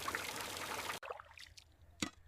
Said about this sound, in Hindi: ये आवाज सुन रहे हो, यही गांव की हार्ट बीट है। ट्रैक्टर और पानी।